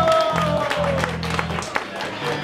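Audience applause for a band's drummer at a concert, a steady wash of clapping filling the clip while a sustained musical tone and hum sit beneath it.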